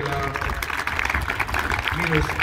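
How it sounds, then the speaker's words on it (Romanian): Applause for the winners of a firefighters' championship, moderate clapping from a crowd running under an announcer's voice speaking over it throughout. "Felicitări și dată aplauze pentru câștigătorii de la"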